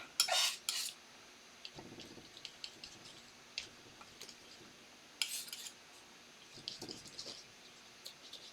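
A metal palette knife works paint across a canvas while a sunset sky is painted, with sporadic faint scrapes, light taps and ticks, and a couple of louder smearing strokes in a quiet room.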